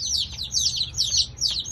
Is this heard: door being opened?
no